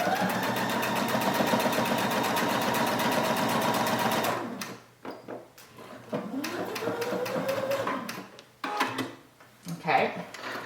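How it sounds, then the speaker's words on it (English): A sewing machine runs a straight stitch along the edge of a homemade fabric mask with gauze inside, a fast steady mechanical whir for about four seconds, then stops, followed by handling clicks and rustles of the cloth close by. "So I'm gonna just do a straight stitch."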